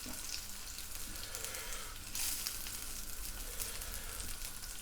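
Sausages fry in a pan for a full English breakfast, giving a steady close sizzle with soft crackle and a brief louder spit partway through.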